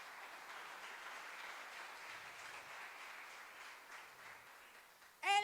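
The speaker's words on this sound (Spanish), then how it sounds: "Yo le estaría dando un poderoso aplauso al Señor" A church congregation gives the Lord a sustained round of applause, a fairly faint, even patter of many hands heard from a distance, ending in a brief louder burst at the very end.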